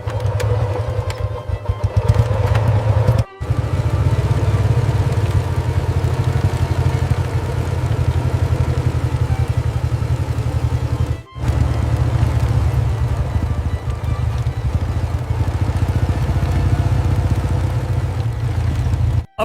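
Motorcycle engine running steadily at a low rumbling idle, loud and close, continuous for the whole stretch apart from two brief cutouts, with no talk over it.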